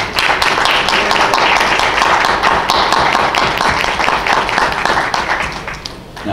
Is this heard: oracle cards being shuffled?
no